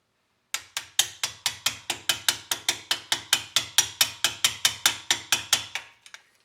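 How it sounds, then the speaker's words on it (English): A small hammer strikes a punch made from a cut-down screwdriver, driving out a large pin during a rear brake job. About twenty sharp, ringing metallic taps come in a steady, even rhythm, close and clear, then stop with a couple of faint clicks. "I just tap the large pin with a small hammer."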